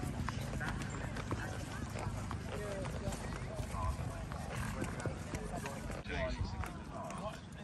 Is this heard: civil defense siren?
no